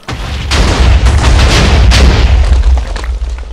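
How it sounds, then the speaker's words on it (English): A chain of heavy booms set off with an igniter in a Minecraft modpack, rumbling and overlapping into a loud, sustained roar with several sharper blasts rising out of it. "Let's watch things explode."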